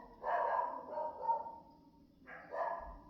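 A dog barks in short bursts, two clusters of yaps about two seconds apart, moderately close and alone without any talk.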